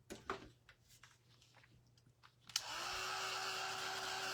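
Hair dryer switched on to dry paint on a burlap pumpkin, a steady loud whooshing blow that starts abruptly after a few soft handling clicks and taps.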